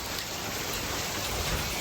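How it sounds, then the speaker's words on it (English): Hail falling outdoors in Vegas during a storm, a steady dense patter of ice hitting surfaces, even and continuous with no breaks and no one speaking. "It's hailing out here, y'all."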